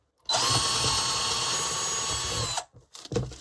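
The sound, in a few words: power drill drilling through bark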